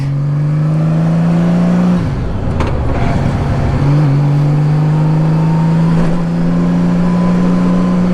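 A 2000 Honda Valkyrie Interstate six-cylinder motorcycle being ridden, its engine holding a loud, smooth, steady drone that briefly shifts and roughens in the middle before settling back to cruising.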